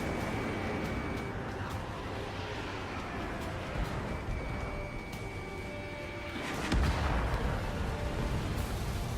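Gunfire and explosions in the combat flight game Ace Combat 7, a continuous heavy rumble with scattered sharp bursts and a louder blast near the end, dense and sustained.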